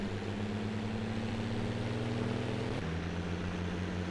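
A tractor engine idling steadily on a hay-baling farm, a low constant rumble with a faint hum that dips slightly in pitch partway through, heard alone without talk.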